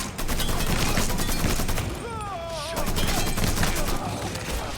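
Loud, rapid gunfire in the video game Mafia III, dense overlapping shots crackling close by, with a brief sweeping whistle midway and a short pause before the firing resumes.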